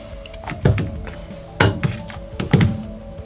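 A few dull plastic clunks and scraping knocks, close up, as the barrel of a Steyr AUG A2 airsoft rifle is twisted a third of a turn and pulled free.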